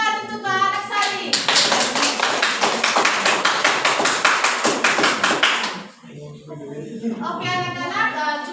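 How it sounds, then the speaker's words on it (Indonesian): A primary school maths class claps together for a student in a brisk, rhythmic burst lasting several seconds, bracketed by an adult voice speaking before and after. "tepuk tangan untuk Mbak Anak Sari"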